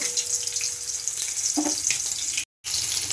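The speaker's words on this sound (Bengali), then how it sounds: "আমি একটুখানি এর মধ্যে গোবিন্দভোগ চাল দিয়ে দেবো দিয়ে এবার একটুটা ভেজে নেব" Gobindobhog rice grains sizzle and crackle steadily in a hot pan over low flame, close up, with a few scraping stirs and a momentary dropout near the end.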